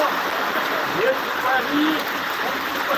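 Heavy monsoon rain in Chiplun, a dense, steady roaring wash of water, loud and unbroken throughout, with a voice speaking over it.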